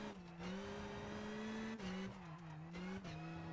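A rally car at the Acropolis Rally in Greece drives through the Tarzan stage with a loud, steady engine note that rises and falls through gear changes over several seconds, close by and with no talking.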